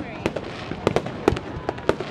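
Fireworks burst in sharp, scattered cracks and pops, about eight distinct bangs over two seconds at moderate distance, with a voice audible in the background.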